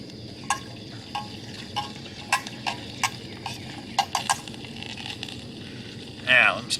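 Sausage and onions frying in a pan at a camp cooking setup, a steady low sizzle with scattered sharp crackles and pops, one louder burst near the end, with faint voices in the background.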